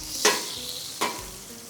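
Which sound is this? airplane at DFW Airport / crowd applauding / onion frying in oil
onion frying in oil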